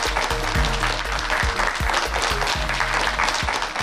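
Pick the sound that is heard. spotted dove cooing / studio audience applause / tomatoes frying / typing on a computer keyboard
studio audience applause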